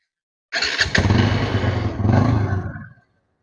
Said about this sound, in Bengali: বাইকটি স্টার দিই আমি